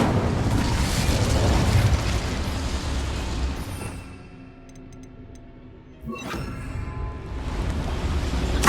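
An Incendio fire spell in Hogwarts Legacy roars out as a loud, sustained burst of flame that fades after a few seconds. A sharp whooshing flare follows, and the roar builds again near the end.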